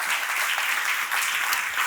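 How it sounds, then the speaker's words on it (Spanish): A church congregation applauds together, a thick, even wash of clapping that holds steady throughout without any speech on top. "Démosle un aplauso al Señor."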